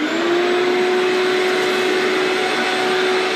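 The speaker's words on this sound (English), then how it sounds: "But a vacuum really, really helps in conjunction with a little die grinder." Loud, steady whine of a vacuum cleaner running during gelcoat stress crack repair on a boat console, paired with a small die grinder fitted with a conical burr, holding an even tone throughout without any talking.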